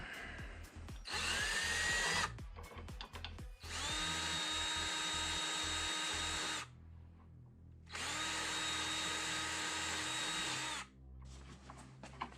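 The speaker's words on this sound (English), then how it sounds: "I'm gonna get these bolts cleaned up a little bit here. I got it in my vise." Rusty exhaust bolts from a Grand Marquis 4.6 clamped in a vise are scrubbed with a power tool, loud whirring bursts of about two and three seconds separated by pauses and short clicks, close and without talk.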